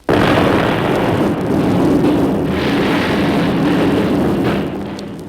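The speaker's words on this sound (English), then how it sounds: "leveled their sloops with his cannons" A heavy, booming roar of cannon fire rolls on continuously, dense and rumbling, swelling slightly before fading toward the end.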